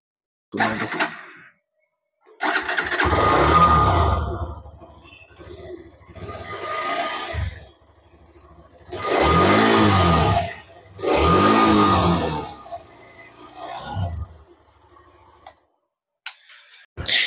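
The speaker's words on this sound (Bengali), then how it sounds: "এবার আমি আপনাদের এর এক্সস্ট সাউন্ড আর ইঞ্জিনের সাউন্ড একবার শুনিয়ে দিচ্ছি স্টার্ট করে।" A Hero Xtreme 125R motorcycle engine starts and idles with a steady exhaust rumble, revving in several loud bursts separated by quieter idling.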